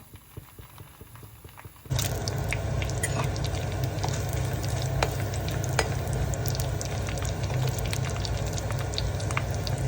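Mustard seeds and green chillies frying in hot coconut oil, a quiet start then a sudden loud burst of steady crackling sizzle with sharp popping spatters throughout.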